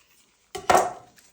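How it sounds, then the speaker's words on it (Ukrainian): A knife slices through two ripe avocados for guacamole, giving a short clack of blade on board followed by a brief scraping cut, close and alone. "Для цього беремо два авокадо, вони мають бути гарно стиглі. Розрізаємо навпіл."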